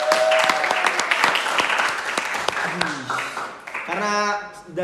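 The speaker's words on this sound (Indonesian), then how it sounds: "Tepuk tangan dong yang meriah." Applause at a quiz-style game session between FISIP UI and FIB UI teams tied at four points each, a busy spread of claps with a voice and music-like tones surfacing near the end.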